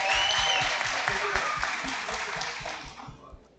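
Audience at an entrepreneurship talk breaks into loud, dense applause that holds steady and then tapers off over a few seconds, with a few voices mixed in.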